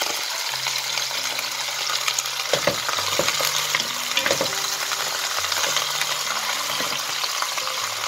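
Two chopped onions drop into a pan and sizzle steadily beside farmhouse chicken with potatoes, with repeated spoon stirs and scrapes clattering over the constant crackle, close and fairly loud.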